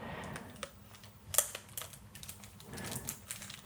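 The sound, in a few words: peeling the plastic wrapper off a Yu-Gi-Oh Cyber Strike structure deck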